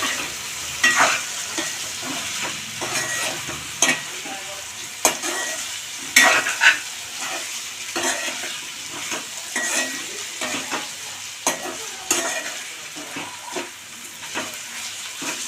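Onions with salt and turmeric stirred in a pan for a green banana and raw mango curry, a utensil scraping and tapping the pan in steady strokes over a soft continuous sizzle.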